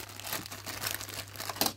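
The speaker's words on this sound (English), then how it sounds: "move the little plastic bag" A small plastic bag crinkles and rustles close by as it is handled during a look at vintage diecast model cars, with irregular crackly bursts running throughout and a sharper crunch near the end.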